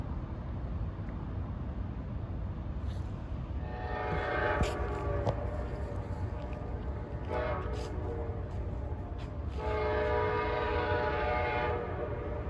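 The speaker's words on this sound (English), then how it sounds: "approaching at 9:10, he's about 20 minutes late, is Amtrak 56, the Vermonter" Amtrak 56, the Vermonter passenger train, sounds a horn in three long blasts as it approaches through St. Albans, Vermont, mid-distance over a steady rumble of rail and engine noise, with no speech.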